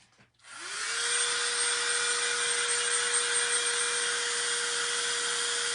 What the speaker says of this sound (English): we're going to hit that with a blow dryer